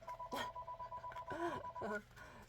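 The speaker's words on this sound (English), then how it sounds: "Sorry, my phone is ringing." A mobile phone rings with a looping electronic tone pattern, while a person talks over it during an indoor card-making session.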